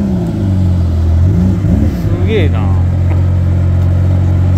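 A Ferrari supercar's engine revs steadily and loudly, a deep droning growl at close range that holds throughout, while someone speaks excitedly over it at a vintage car festival.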